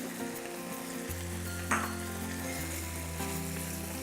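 Shrimp fries in a pan with oyster sauce and sriracha for fried rice, a close, continuous sizzle with a brief scrape of stirring partway through and no voices.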